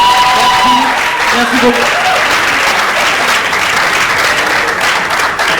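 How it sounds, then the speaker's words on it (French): Audience at a theatre performance giving loud, dense sustained applause that fills the room steadily, with a brief spoken thanks near the start under the clapping. "S'il vous plaît, un maximum d'applaudissements pour le théâtre Burundais."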